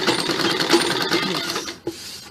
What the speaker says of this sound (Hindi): सिलाई आपने किनारे किनारे देनी है, बीचों बीच नहीं देनी है।